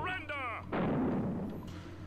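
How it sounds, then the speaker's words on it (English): A grenade explodes in the Small Soldiers Squad Commander video game: a single boomy burst following a brief moment of speech, fading into a rumbling tail. "I just threw this grenade here."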